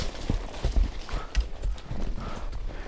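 A mare walks on a pasture at a Brazilian cattle farm, her hooves clip-clopping in an uneven close rhythm of soft thuds, with faint breathing between the steps.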